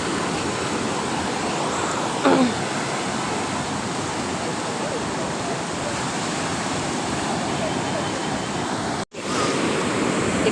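Sea waves wash in at Kozhikode beach as a continuous loud roar of surf, mixed with wind buffeting the microphone, with one brief dropout near the end.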